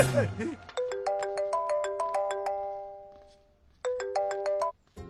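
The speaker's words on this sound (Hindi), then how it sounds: "आपको किसी का फोन आ रहा है।" A phone ringtone plays a bright, repeating electronic chime melody, starting just after a brief voice, fading, then sounding again before cutting off.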